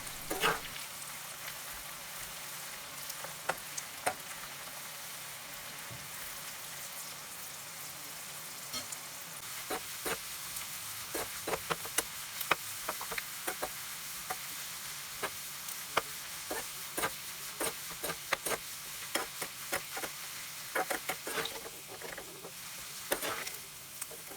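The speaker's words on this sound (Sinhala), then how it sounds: "කරවිල පෙති ටික ටික දාලා මෙන්න මේ විදිහට හොඳින් බැද ගන්න ඕනි" Slices of bitter gourd fry in oil in a pan, a steady soft sizzle broken by scattered sharp pops and crackles that grow busier toward the end, with no voices.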